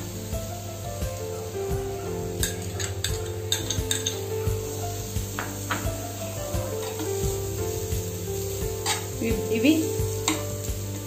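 Thinly sliced onion frying in hot oil in a pan, sizzling steadily while a utensil stirs and scrapes with repeated clinks, close up, with a brief spoken word over it.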